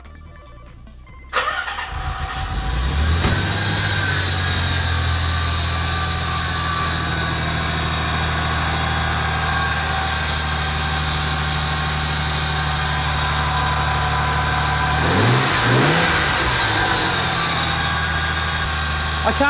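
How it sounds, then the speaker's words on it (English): A car fitted with HKS air intakes cranks and fires up, then settles into a steady loud idle with a whirring fan nearby, before a short burst of revving near the end. "we're just going to start the car up and see how it sounds"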